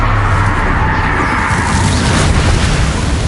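Confringo fire-blast spell explosions in Hogwarts Legacy on PS5, a dense, continuous booming roar with heavy low rumble sustained throughout, loud and close with no clear gaps.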